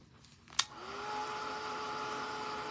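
A hair dryer drying acrylic paint on a tote bag clicks on after a soft knock, then blows with a steady, close, whining roar that holds to the end.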